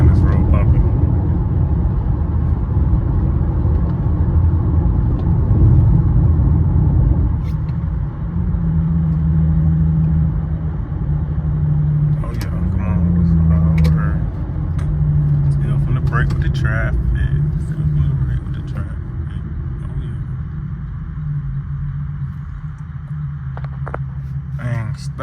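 Steady low road rumble inside an Infiniti Q50 rolling over a bumpy road, the cabin drone and jolts continuous throughout, with voices talking over it.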